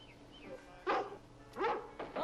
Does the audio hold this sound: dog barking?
yes